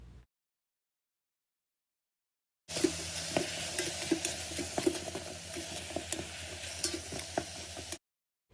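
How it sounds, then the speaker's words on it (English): Ground beef sautés in an Instant Pot, sizzling steadily with occasional scraping taps as the meat is broken apart, framed by silence before and after. "Add 1 pound of ground beef and begin to break apart."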